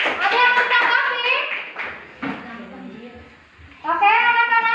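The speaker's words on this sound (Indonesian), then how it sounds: "tepuk tangan untuk kelompok 1" Children in a classroom clap together in short rhythmic bursts for a student group, mixed with their bright, high voices chanting along and a teacher's voice between the bursts.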